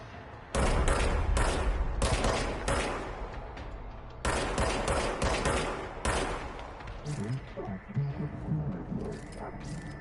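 Dense, loud gunfire from the video game Control rattles almost without pause, in long rapid volleys with brief breaks and scattered game effects.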